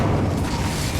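A fire spell cast in the Hogwarts Legacy video game, heard as a dense, steady roaring whoosh with a low booming body that holds loud throughout the short burst.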